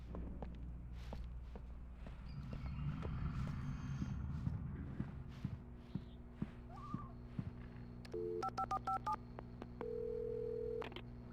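A telephone at a gas station in the Alan Wake video game: footsteps shuffle on the floor, then a quick burst of dialing tones and a steady dial tone sound near and clear.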